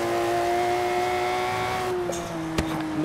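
Aston Martin One-77 in Forza Horizon 3, its engine revving with a steady high drone that drops off, followed by a couple of sharp pops near the end.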